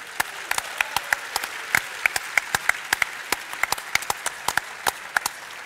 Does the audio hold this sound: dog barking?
no